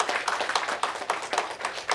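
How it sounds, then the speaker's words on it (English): Audience members at a GST workshop clap in a loose, uneven rhythm of distinct hand claps, moderately close and fairly sparse, with no talk over them. "Can we just clap for a moment?"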